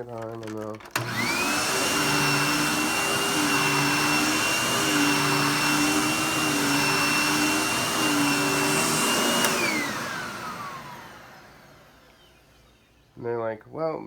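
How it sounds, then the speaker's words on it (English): A household vacuum cleaner switches on with a thump and runs as a steady loud whine with a droning motor hum, then powers down and winds to a fading whir near the end. "A lot of people will just take their vacuum. They don't really care. They'll just turn it on"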